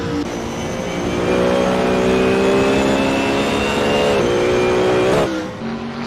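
A BMW Z4 race car circling the Mugello circuit holds a loud, steady engine drone near the listener. The pitch climbs gradually, then drops sharply with a shift before fading out at the end.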